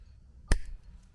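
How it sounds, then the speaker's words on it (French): Excess plastic cable ties being cut off a bicycle during wireless bike computer installation; a single sharp snip, close and brief, in an otherwise quiet room. "on va découper les riselants qui sont un peu trop longs"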